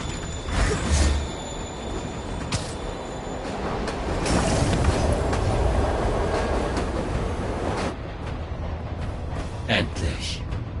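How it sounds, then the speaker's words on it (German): A train moves in the Spider-Man video game, with rumbling wheels, clattering mechanisms and metallic screeches under continuous talk, loud and close. "Der Zug bewegt sich."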